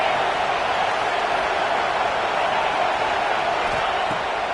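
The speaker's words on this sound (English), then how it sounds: "This crowd, full throat, splitting the eardrums" A packed college football stadium crowd at a Michigan versus Washington game roars continuously, a dense, loud, sustained wash of cheering that fills the whole moment.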